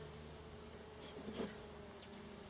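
Continuous low buzzing from a cluster of young honeybees at a hive, steady throughout, with one slightly louder swell midway.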